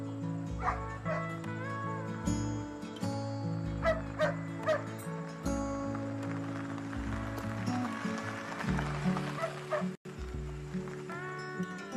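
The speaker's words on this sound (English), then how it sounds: "call off the dog" A dog barks and yips repeatedly at a homestead as visitors arrive, loud and close over a steady musical underscore, with short bursts of barking spread across the scene.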